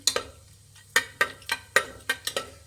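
Whole spices such as cardamom, star anise and fennel seeds fry in a pan, giving a handful of sharp, separate crackles and pops that sound close, over a faint low hiss.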